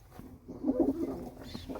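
A pigeon coos softly and close by, a low throaty murmur that rises and falls for about a second, with faint background noise around it.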